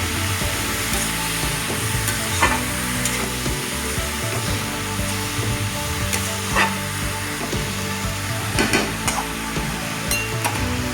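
Pumpkin curry sizzles in a pan as a spoon stirs it, giving repeated scrapes and light clinks over a constant frying hiss, close up with no voices.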